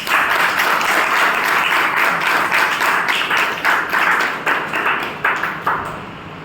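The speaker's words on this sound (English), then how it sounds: "So let us give him a big round of applause." Audience at a Toastmasters club meeting gives a hearty round of applause, dense steady clapping close by that thins into separate claps as it tapers off near the end.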